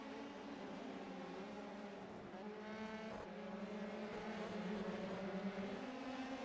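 Racing video game cars on a track during an English Grand Prix round, a pack of engines droning together at steady pitch and rising slightly, moderately loud with no voices.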